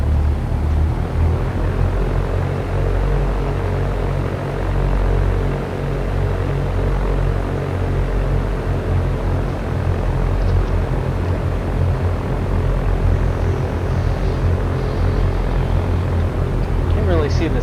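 Light aircraft engine in X-Plane 11 during a takeoff roll: a loud, steady droning propeller hum with a low rumble that holds throughout, from a simulator.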